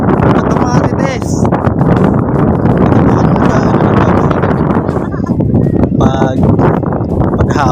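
Strong wind roars and buffets the microphone continuously on a mountain at Sunshineville, Cabuco, with brief voices and faint sounds cutting through the gusty rumble.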